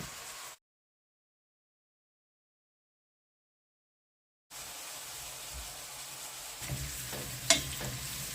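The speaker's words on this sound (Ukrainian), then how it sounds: "Слідкуємо, щоб цибулька підрумянилась." Onion frying in a pan until it browns, a quiet steady sizzle with occasional stirring clinks toward the end, broken by a stretch of complete silence early on.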